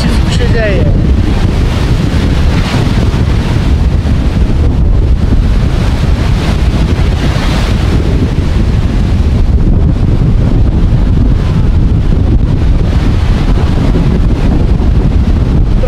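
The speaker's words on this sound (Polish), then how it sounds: "Trochę wiaterek jest" Strong wind blasts across the microphone on a Baltic beach at Dębki, a loud, constant low roar with the rush of big surf breaking nearby, and a voice briefly heard under it.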